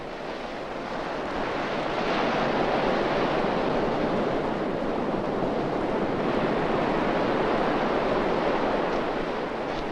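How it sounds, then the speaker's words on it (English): Surf at Woolamai Beach on Phillip Island, Victoria, makes a continuous broad roar of breaking waves, with wind rumbling on the microphone throughout and no voices. "This is Woolamai Beach on Phillip Island, one of the most popular spots for surfing"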